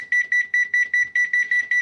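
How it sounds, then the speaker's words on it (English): Kitchen timer beeping while sheet-pan beer bratwurst and potatoes cook, a steady run of short, loud, high electronic beeps in regular groups, close by with no talk. "so I'm going to put the timer on for 40 minutes"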